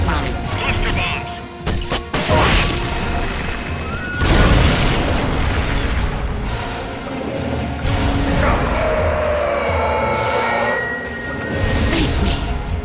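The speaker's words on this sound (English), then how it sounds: "Launching S-lines. Cluster bombs!" Cluster bombs going off in the Metal Gear Solid Peace Walker video game, a dense run of loud, close crashing blasts and booms with mechanical clatter, surging in several heavy waves.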